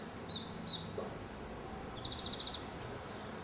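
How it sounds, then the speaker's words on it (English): Birds singing around a tree-lined hotel terrace in France, with bright chirps and a rapid run of repeated descending whistles, fairly close over quiet outdoor background. "And the birds singing away."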